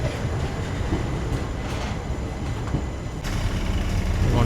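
An express train, the weekly Vasco-da-Gama to Tirupati service, runs through Dudhsagar railway station: a steady, dense rumble of rolling stock and wheel noise that stays loud and continuous throughout, with no talking.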